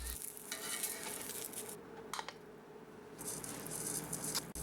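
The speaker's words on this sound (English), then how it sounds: "charring them over medium heat is an extra step you don't want to miss" Whole spices for Vietnamese beef pho char in a pan over medium heat, giving a steady crackling sizzle with light rattling and pattering as they shift, with no talking.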